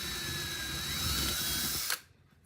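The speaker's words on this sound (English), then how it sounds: "I'm going to take my drill." A power drill whirs steadily at close range for about two seconds while making a craft tree, its pitch rising slightly, then stops abruptly.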